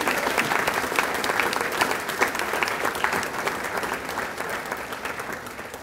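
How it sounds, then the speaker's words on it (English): A crowd at a 2022 senior awards dinner applauds the award winners, giving thick, continuous clapping that holds at an even level throughout, with no speech over it. "Huge round of applause for all of our award winners tonight."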